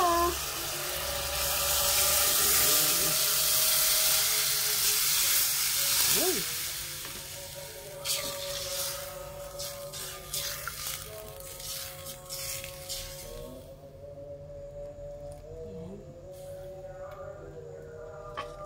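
Broth poured into a hot, sizzling pan of chicken for tinolang manok: a loud bright hiss dominates at first, then drops away abruptly as the liquid settles into a quieter bubbling.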